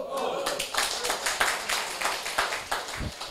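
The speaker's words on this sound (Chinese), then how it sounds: "这拍手的都很老的" An elderly audience at a Taiwan civil-government lecture claps in a quick run of sharp, irregular hand claps, many hands together and fairly close, lasting the whole stretch.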